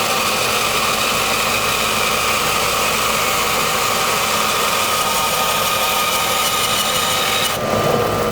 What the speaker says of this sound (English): we're going to take this to the bandsaw and cut it up into 3 sections